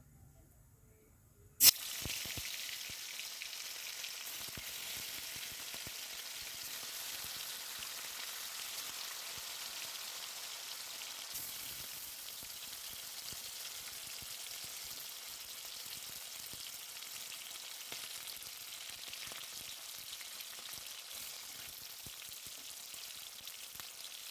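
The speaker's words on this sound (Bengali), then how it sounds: "তেল গরম হয়ে গেছে, মাছগুলো ভেজে নেব।" Sole fish seasoned with salt and turmeric frying in hot oil, a steady loud sizzle that starts abruptly as the fish goes in and crackles on continuously without talk.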